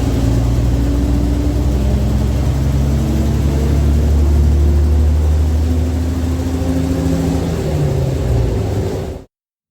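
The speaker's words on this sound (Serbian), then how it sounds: "A ovako je zvučao prigušeni diferencijal na garažnom broju 75." A city bus, garage number 75, with a muffled differential, runs with a continuous low drone and a steady mid-pitched whine for nine seconds, close and loud, before stopping suddenly.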